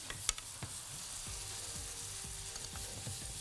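Steady, quiet sizzle of Greek village sausages with leeks frying in a pan on the stove, with a few light clicks and scrapes of stirring, and no voices.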